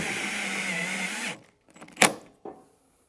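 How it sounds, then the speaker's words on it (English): A drill drives a self-tapping screw into a custom side skirt on a second-generation Camaro pro touring build, a steady close whir for over a second that cuts off, followed by a few short scraping clicks and a sharp burst. "Now I'm going to send a self-tapper in there to hold it in place."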